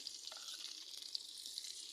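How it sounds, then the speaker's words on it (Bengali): Green chili and onion fry in hot oil, a soft, steady sizzle with scattered light crackles; no one speaks. "তো ওই তেলের মধ্যে এখন আমি একটু কাঁচামরিচ, পেঁয়াজ এগুলো দিয়ে দিলাম।"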